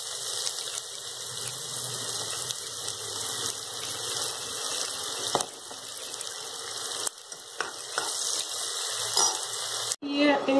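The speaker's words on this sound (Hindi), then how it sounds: "तो मैं अभी प्याज दे दिया।" Chopped onions sizzle steadily in a hot pan while lemon rice is being cooked, with a constant close hiss throughout and a brief clatter near the end.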